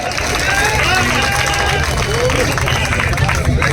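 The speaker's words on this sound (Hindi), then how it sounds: "तालियां जोरदार बजाइए एक बार।" A crowd at an outdoor Hindi poetry recital claps loudly and steadily in a dense, continuous wash of applause, with murmuring voices mixed in.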